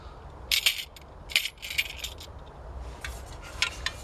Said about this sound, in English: fold the legs round until they lock